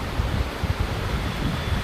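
Water flows through a channel beside a rice paddy field in Theni, Tamil Nadu, a constant rushing wash heard nearby, with some wind buffeting and no talk.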